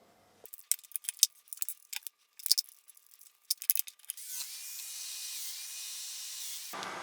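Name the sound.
Festool Domino joiner cutting 10mm oval holes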